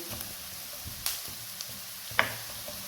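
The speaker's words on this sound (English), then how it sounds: "I'm not going to cook these onions for a long time because I want them to be crispy" Onions for fried rice fry in a pan with a faint, steady sizzle and a couple of sharp clicks from a utensil.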